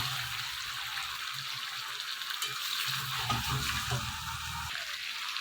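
Chicken curry fries in released oil while being stirred in the pan, producing a continuous low sizzle. Soft stirring and scraping sounds come through close and fairly quiet, with no talking.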